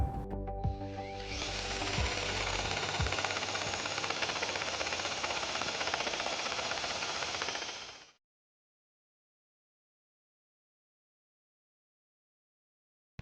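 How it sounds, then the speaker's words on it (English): A power drill spins a step bit to widen a hole in a steel baseplate for a 2020 Jeep Wrangler, a loud steady grinding whine that runs for about seven seconds and then cuts off abruptly, leaving silence. "the nut is too big, so we're going to have to widen it using a step-it"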